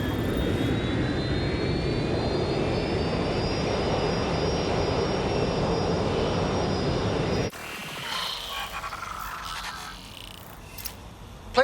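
A plane flying in the Watch Dogs video game: a loud, sustained jet engine roar with a rising whine, cutting off abruptly near the end into quieter game ambience and a final thump.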